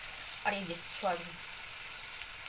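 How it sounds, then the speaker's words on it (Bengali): Onion, garlic, tomato, cumin seeds and bay leaf fry in hot oil with a soft, steady sizzle, while someone speaks briefly over it. "পেঁয়াজ, রসুন, টমেটো, জিরে, গোটা জিরে আর তেজপাতা দিয়েছি, দিয়ে এবার ভাজছি"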